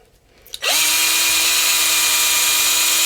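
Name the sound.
power drill drilling hole for coax in antenna feedpoint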